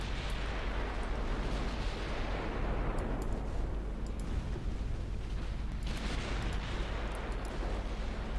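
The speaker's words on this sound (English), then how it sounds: "I actually got a torpedo hit." A torpedo strikes a warship in the naval strategy game Ultimate Admiral Dreadnoughts, set in a 1910 Japan campaign, giving a steady, heavy rumbling explosion roar that stays loud and dense throughout with no talk.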